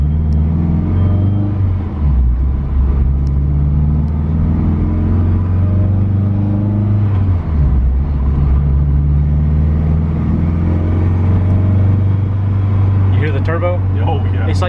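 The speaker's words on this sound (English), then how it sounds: "It's like you barely touch the gas and you can hear the turbo is ready to go." Turbocharged hatchback engine with cold oil pulling through tight circles, a steady low drone swelling with light throttle over the whole stretch, while people talk over it.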